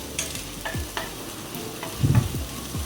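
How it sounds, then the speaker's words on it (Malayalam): Chopped green chillies sizzle in a pan while a spoon stirs and scrapes in repeated close strokes over a steady frying hiss. "ഒരു രണ്ട് പച്ചമുളക് ചോപ്പ് ചെയ്തത് ഇടുക നന്നായി അതിൻ്റെ പച്ചമണം മാറുന്നത് വരെ ഒന്ന് ഇളക്കി കൊടുക്കണേ"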